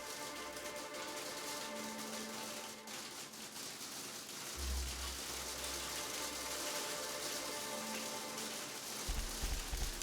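Steady rain hiss fills a scene in the video game The Outer Worlds, with a low engine-like rumble swelling in and out beneath it.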